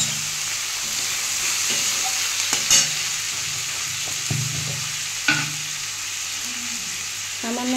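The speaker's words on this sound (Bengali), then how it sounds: "আমি সবজিগুলো দিয়ে দিয়েছি, সবজিগুলো একটু ভেজে নেব।" Vegetables for oats khichuri frying in oil in a pan with turmeric, a steady close sizzle broken by several sharp scrapes and clinks of a spoon stirring against the pan.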